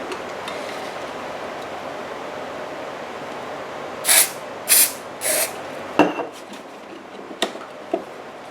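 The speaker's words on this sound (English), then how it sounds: "Now we need the activator spray." Activator spray from a can misted in a few short, sharp hisses over a gift-wrapped school bag, each burst brief and close, followed by small handling knocks.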